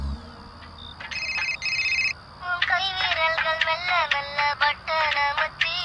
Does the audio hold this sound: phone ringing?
yes